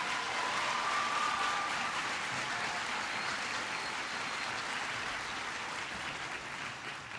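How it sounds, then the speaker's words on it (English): Audience applause during an education speech by President Barack Obama, a broad continuous roar of clapping from a large crowd, heard from a distance and slowly fading toward the end. "Please give him a big round of applause."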